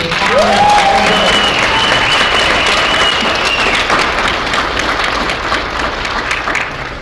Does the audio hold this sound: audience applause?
yes